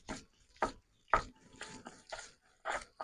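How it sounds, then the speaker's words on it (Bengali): Ginger and garlic ground by hand on a traditional grinding stone in a village kitchen, a series of separate rough scraping strokes at an uneven rhythm, close and fairly quiet. "আদা রসুন বেটে নেব।"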